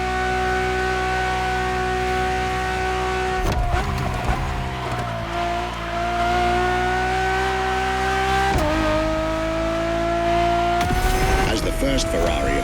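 Ferrari Enzo engine in The Crew Motorfest video game, a loud sustained drone that climbs in pitch through the gears with brief shift breaks. A voice talks over it throughout.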